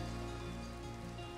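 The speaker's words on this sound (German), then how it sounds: "Warum regnet denn das?" Steady rain falls in Minecraft, a constant hiss over a low droning background, with no voices.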